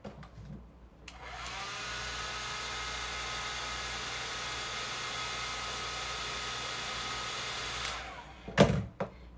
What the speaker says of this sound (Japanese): ドライヤーで一回温めない